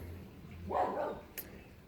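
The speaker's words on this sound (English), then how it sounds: "my dog's just barking then" A dog gives a single muffled bark at a distance, short and faint, then a small sharp sound follows in an otherwise quiet room.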